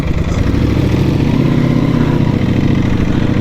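A Ducati Panigale V4S motorcycle pulls away from a gas station, its engine a loud, steady rumble close by that swells slightly as it rolls off.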